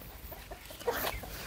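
Chickens cluck inside a backyard coop on a small mixed vegetable farm, a few short calls rising briefly over steady outdoor background noise at moderate distance.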